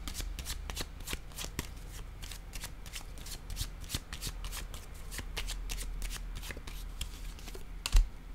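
Tarot cards being shuffled and drawn by hand, close and crisp, a rapid run of papery riffles and flicks throughout with one louder tap near the end.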